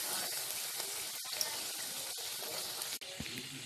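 Methi masala puris deep-frying in hot oil, a steady broadband sizzle running throughout at moderate level, with a brief break near the end and a few soft clinks.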